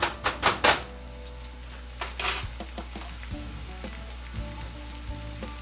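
Garlic sizzles in a hot pan while sloppy joes are cooked, with a few loud clatters of utensil against pan at the start, then a steady close frying hiss with small scrapes and taps.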